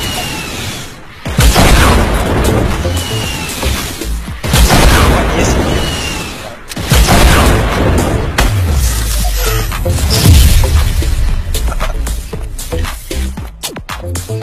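Desert Eagle pistol shots in Fortnite, a few loud booming reports spaced seconds apart amid dense game noise, with a voice talking over the action.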